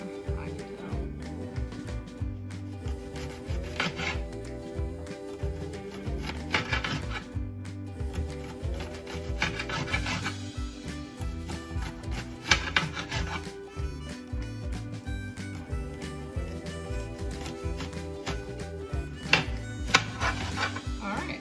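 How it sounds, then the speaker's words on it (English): A knife dices an onion on a board while cooking Roaring 20s-era food, with steady rapid chopping and scraping strokes that sit under continuous background music. "So I'm gonna keep going and finish dicing this onion."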